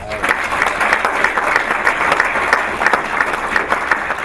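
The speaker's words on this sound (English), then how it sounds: "Let's give them another round of applause" A board meeting audience gives a loud round of applause, a thick, continuous crowd of hands clapping close by for several seconds.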